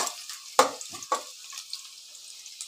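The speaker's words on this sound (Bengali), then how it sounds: "পেঁয়াজটা আমার ভাজা ভাজা হয়ে গেছে।" Onions frying in a pan while cooking a bottle gourd dish, a few sharp stirring scrapes and brief bursts over a faint, steady background sizzle, close and fairly quiet with no talk.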